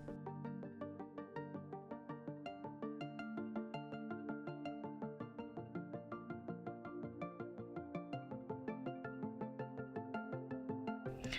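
Redmi Note 13 phone notification tones previewed one after another, a rapid run of short bright chimes and melodic beeps at low volume, with no voices.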